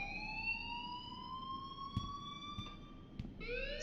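An alarm rings in the video game Life is Strange as a continuous electronic wail of several steady pitched tones, faint and unbroken, with a few soft clicks and knocks beneath it.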